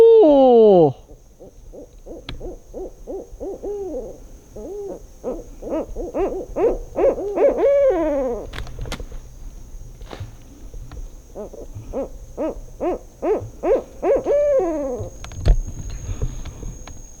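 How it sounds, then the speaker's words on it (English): Owls hooting in South Florida public-land woods, a series of deep, rhythmic hoot bursts repeating close by and fairly loud, with pauses between calls and no talking. "these owls are following me out of the woods"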